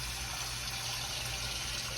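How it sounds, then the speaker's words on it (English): Water runs into a cooking pot of fresh zipper cream peas, a steady, even rushing gush lasting the whole moment, fairly quiet and alone. "A little bit more water in here."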